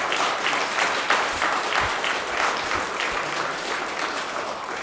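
Steady audience applause in a hall at a political gathering, a dense wash of clapping that holds fairly loud and even from start to end.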